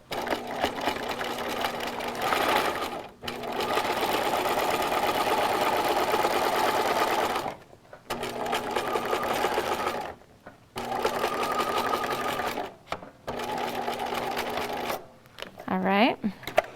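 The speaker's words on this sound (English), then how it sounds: "I'm just sewing it from the back side so that it's easier to fit into my sewing machine" A sewing machine stitches a paper storage envelope album in long steady whirring runs, loud and close, separated by short pauses, ending with a brief higher rattling squeal.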